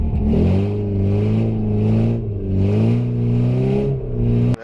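A car engine revs steadily and loudly while driving, its pitch rising and falling in broad waves throughout, with no speech, during a timed drive comparing two cars.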